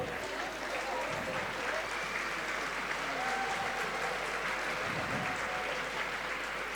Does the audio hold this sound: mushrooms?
no